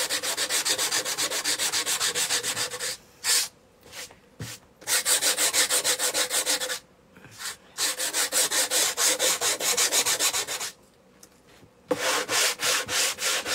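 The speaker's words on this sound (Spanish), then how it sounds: "Quiero desgastar más, pues una lija más gordita" Rough scratchy sanding on wood with coarse sandpaper in repeated back-and-forth strokes, loud and close, broken by a few short pauses.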